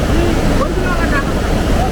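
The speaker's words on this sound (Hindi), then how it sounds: "बहुत तेज झरना।" A roaring, fast-flowing waterfall on a mountain road in Nepal, heard as a loud, dense, continuous rush of water with wind buffeting the microphone and faint voices underneath.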